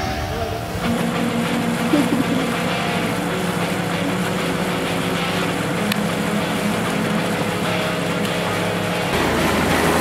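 Small boat motors across the Adriatic, its engine droning steadily with a low hum and steady water wash, close and continuous through the whole stretch.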